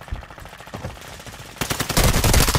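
Rapid automatic gunfire in the video game Call of Duty Modern Warfare 2, a dense rattle of bursts that grows louder and more continuous halfway through, close and loud with no talk over it.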